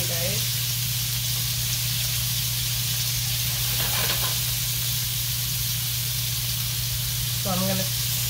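Sliced beef for a philly cheesesteak sizzles and hisses steadily in a hot pan, loud and continuous, with a low steady hum beneath and faint scraping as the meat is broken apart.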